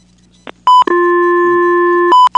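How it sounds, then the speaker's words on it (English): A steady telephone dial tone on a business phone line routed through a Centrex system, loud and continuous, bracketed by short beeps at start and end with no talking. "See, dial tone's normal."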